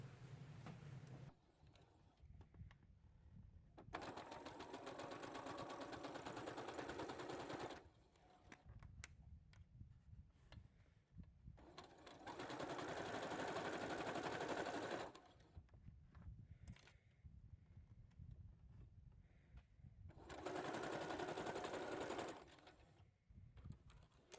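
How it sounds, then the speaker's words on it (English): A sewing machine stitches a quarter-inch seam across the top of a cloth face mask, running in three loud buzzing bursts of several seconds each, separated by quieter pauses. "we're going to do our 1/4 inch stitch across the top here"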